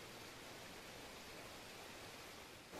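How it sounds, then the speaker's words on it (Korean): A mountain stream beside the Odaesan pilgrimage path toward Sangwonsa temple rushes continuously, a steady, even wash of flowing water with no other sounds. "지금 이 물소리를 들으시면서 걸으면"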